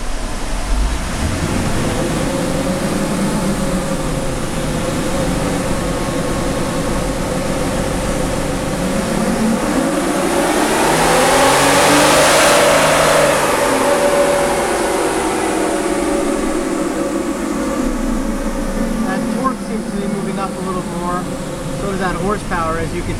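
A 2012 Jeep Wrangler with the 3.6L V6 roars on a dyno as it climbs through the revs to a loud peak mid-pass and then winds back down, with a constant heavy rumble of rollers and fans underneath.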